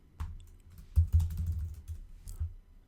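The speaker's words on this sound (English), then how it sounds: "Type in some text, change the text" Fingers type text on a computer keyboard at close range, a steady patter of soft key presses with a few louder taps, alone without talk.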